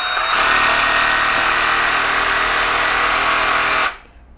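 An IMAX IMRS20 20V cordless reciprocating saw runs freely with no cut, a loud steady high-pitched motor whine held for nearly four seconds before cutting off abruptly and winding down.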